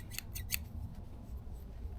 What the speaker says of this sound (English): We've got some low voltage scissors here.